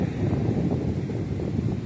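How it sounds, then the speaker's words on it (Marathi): Steady cool wind at the Mahim seashore rushes and buffets against the microphone, a low continuous roar with no voices. "मस्त थंडगार वारा येतोय"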